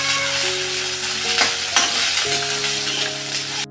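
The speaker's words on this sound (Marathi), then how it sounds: "आलं लसूण आहे कढीपत्ता आहे कोथिंबीर पण टाकली याच्यामध्ये याचं चांगली ना मी तेलामध्ये परतून घेते" Ginger-garlic paste, curry leaves and coriander sautéing in hot oil in a pan, a dense close sizzle with a few scraping stirs and a brief crackling burst midway, with a steady low hum underneath throughout.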